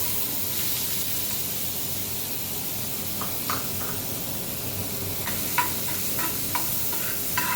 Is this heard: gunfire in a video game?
no